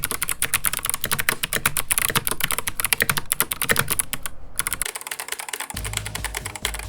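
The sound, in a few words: typing on Keychron C2 keyboard with jade and navy switches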